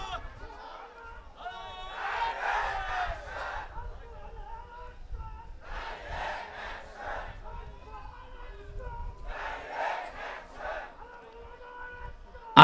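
Crowd at a religious gathering (waz) in Rajshahi chanting takbir in three rhythmic waves of massed voices, answering a leader's call, moderately distant.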